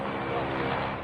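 Two attack helicopters fly over Russian territory and fire on an oil depot. Their engines make a loud, steady, rumbling drone throughout, with a muffled voice faintly beneath.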